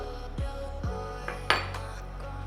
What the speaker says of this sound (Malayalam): ഇത്രയും ഒന്ന് ഒലിവ് ഓയിൽ നന്നായിട്ട് മിക്സ് ചെയ്ത